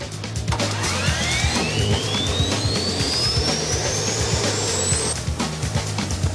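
A jet turbine mounted in a Suzuki Hayabusa motorcycle spools up on starting. Its whine climbs steadily in pitch over a loud, rumbling roar, then settles into a steady, close, powerful howl.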